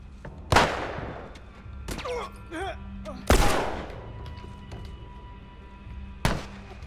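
Gunfire in The Last of Us Remastered: three sharp, loud shots spaced a couple of seconds apart, each with a ringing decay, over a low game ambience with brief chirping effects between them.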